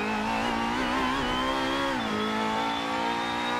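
Honda Accord MK5 BTTC race car in a racing game, its engine holding a steady, loud, buzzing tone that rises and dips slightly as it is driven gently on an opening lap.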